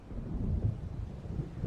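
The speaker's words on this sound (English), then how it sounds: "It seems there's a storm coming." Low, rolling rumble of thunder from an approaching storm in the video game Alan Wake, a sustained deep roll with slight swells, heard alone without speech.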